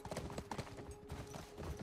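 Horse hooves clip-clopping in The Last of Us Part I video game, a quick, faint patter of steps under a steady background hum during a chaotic chase.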